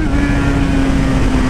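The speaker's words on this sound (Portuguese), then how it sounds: "A moto nova tá chegando, tiozão." A new Yamaha XJ motorcycle engine running loud and close, a steady droning tone held at constant pitch without talk, more a sustained idle-to-rev hum than distinct bursts.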